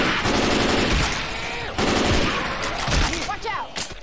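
Rapid automatic gunfire from Left 4 Dead 2, loud close bursts repeating in a quick rattling rhythm across the whole stretch, with a few sharper single shots near the end.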